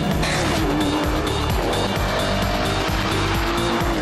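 Aston Martin DBS V12 engine driven hard, a loud continuous roar with rising and falling revs and gear changes, tyres squealing faintly at times throughout.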